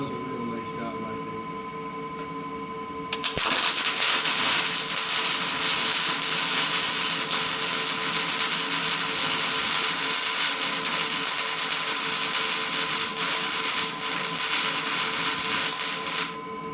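A Power MIG 210 MP welder starts with a sharp strike and then holds a steady, loud, close crackling hiss of MIG welding until it cuts off at the end.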